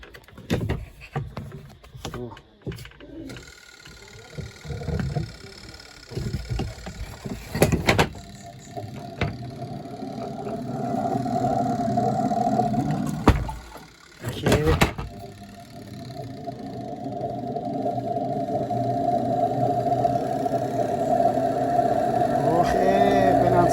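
An LG WP-1350 twin-tub washing machine runs with a steady mechanical whirring drone, broken by a few knocks and clunks as its brake is tested, loud and continuous throughout.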